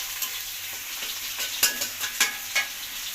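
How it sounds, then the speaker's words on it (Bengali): Spice paste sizzles as it is sautéed and stirred in a pan, a soft steady frying hiss broken by several sharp scraping strokes of the spoon, close and without any talking. "মশলাটা আগে একটু কষাইতেছি"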